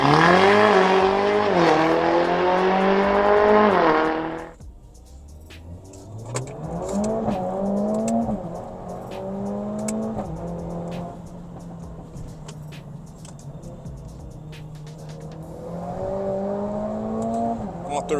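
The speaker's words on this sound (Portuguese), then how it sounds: "dá uma aceleradinha aqui para vocês terem uma ideia do desempenho de como emenda a marcha" A tuned Mercedes A45S AMG with Stage 1 tuning accelerates hard, its engine note climbing then dropping at each gear change across several shifts, loud at first and then receding into the distance.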